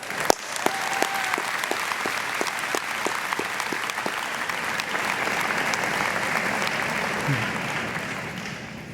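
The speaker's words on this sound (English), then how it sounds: "why don't we take a moment and offer them an enthusiastic round of applause" A crowd applauds steadily at a university commencement ceremony, many hands clapping in a dense, even roar with a few sharp claps standing out early.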